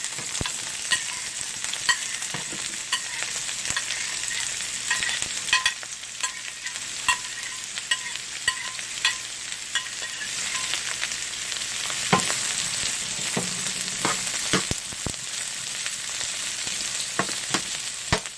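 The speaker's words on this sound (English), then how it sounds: "So the grease is nice and hot. So I'm going to let you know because you're going to hear it." Chopped bell peppers sizzle loudly in hot grease and olive oil, a steady close frying hiss broken by frequent stirring scrapes and pops throughout.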